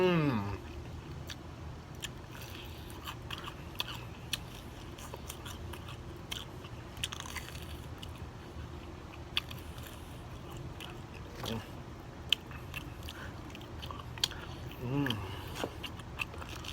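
Close, wet chewing and lip smacking on Popeyes fried chicken with hot sauce, steady crunchy bites and mouth noises running throughout with soft murmurs over them.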